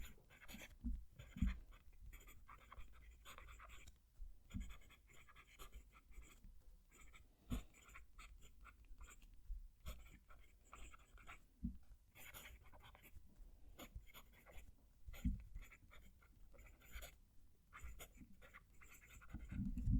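A Jinhao 159 fountain pen scratches across textured Ayush paper, with close, quiet, irregular strokes and soft taps continuing throughout with no talking.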